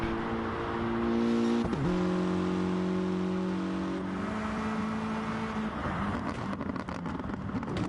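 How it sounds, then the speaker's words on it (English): A race car in GT Sport at Lago Maggiore East, its exhaust revving loud and close, a steady engine tone that drops after a gear change and fades into whirring road noise. "You can just hear that exhaust. That was a great noise."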